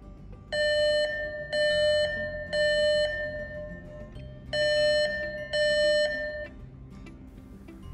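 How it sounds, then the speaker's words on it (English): A driver drowsiness alarm sounds in loud repeated electronic beeps, two quick tones, a pause, three tones, another pause, then two more, over a steady low hum with no talking. "an alarm should sound if the eyes are closed for longer than 3 seconds"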